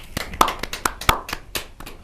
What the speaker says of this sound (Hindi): मैं स्वागत करती हूँ जोरदार तालियों के साथ महेंद्र भट्ट जी।